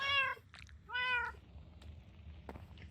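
Cats meowing in Minecraft inside a village player home, two clear drawn-out meows followed by faint scattered clicks and small game sounds.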